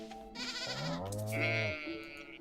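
A sheep in Stardew Valley gives one long, wavering bleat, close and clear, followed by a shorter, higher electronic tone.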